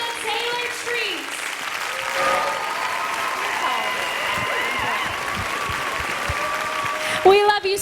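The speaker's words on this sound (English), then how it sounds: "Another round of applause for your Miss Oklahoma, Taylor Treat" Sustained audience applause for the newly named Miss Oklahoma at a state beauty pageant, a steady wash of clapping with faint crowd noise and a brief musical flourish near the end.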